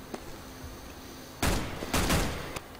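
Gunfire in a shooter video game: two loud, close bursts of rapid shots in the second half, after a quiet stretch with one faint earlier pop, heard alone with no talking.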